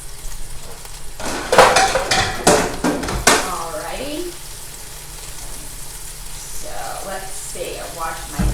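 Kitchen cleanup after making a chicken Marsala casserole: dishes and cutlery clank into a sink in a burst of clatter, followed by running water and quieter rinsing sounds.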